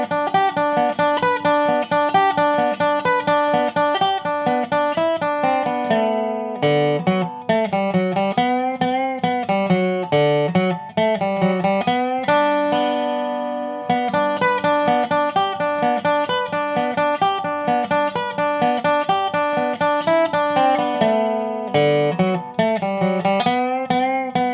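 Dobro plays the last break of a bluegrass tune, a steady stream of bright picked notes and ringing slides, loud and close, continuing for the whole stretch without talk.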